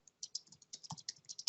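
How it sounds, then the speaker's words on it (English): Fingers typing on a computer keyboard, a quick, irregular run of light clicks and taps, fairly faint and close, with no other sounds around them. "I'm typing it up here."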